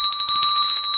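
A handheld bell rings steadily and close by with bright, sustained tones, shaken in a quick continuous pattern for about a second with no voices.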